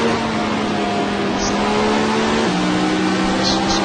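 A McLaren race car in the Assetto Corsa video game revs hard and loud, its engine holding a steady high tone that drops with a gear change midway and then climbs again.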